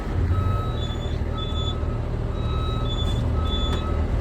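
Backup beeps sound from a reversing Quint fire truck with an aerial ladder, a steady repeating series of loud electronic tones over a constant low engine idle.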